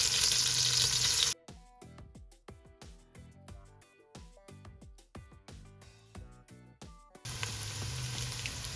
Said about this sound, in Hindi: देखिए हम प्याज फ्राई हो रहा है, इसके साथ ही आप शामिल कर देंगे लहसुन पेस्ट।